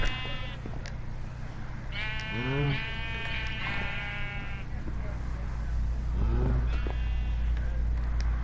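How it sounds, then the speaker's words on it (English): Sheep in the video game Minecraft bleating several times in short wavering calls, while a person talks over them. "Hey there, sheep."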